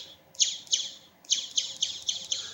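A small old toy laser gun keychain plays its electronic sound effect: six bright, sweeping chirps, nearby and clear, in a short pair followed by a faster run of four.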